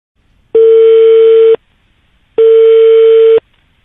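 A telephone busy tone after a call is hung up: two loud, steady beeps about a second long, separated by a silent gap, clean and close with no talk.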